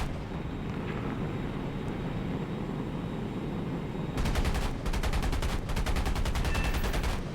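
An F-86 jet's machine guns fire at a MiG in War Thunder, several loud rapid-fire bursts breaking in over a steady roaring engine drone, with short pauses between the strings of shots.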